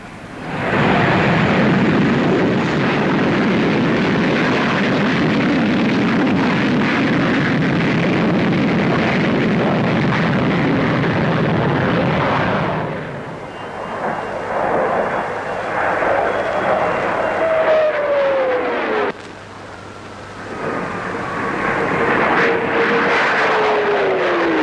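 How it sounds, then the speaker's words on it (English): The Vickers Supermarine 510 experimental supersonic jet flying at a Farnborough airshow in the 1950s, a loud roaring jet rush that drops away, then falling-pitch whines as it passes by. "what's rumoured to be the fastest aircraft in the show, the Vickers Supermarine 510"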